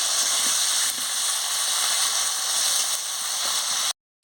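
Potato pieces fry in hot oil in a pan for a Bengali chicken curry made with kham alu, giving a steady, close sizzle and hiss that runs unbroken, then cuts out briefly near the end.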